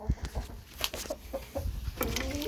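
A rooster clucks in short, scattered bursts at a moderate distance on a September morning farmyard with hens and rabbits, faint farmyard background noise and no talking.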